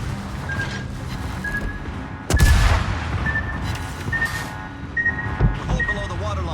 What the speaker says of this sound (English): There goes the secondary batteries at least. They'll do some damage.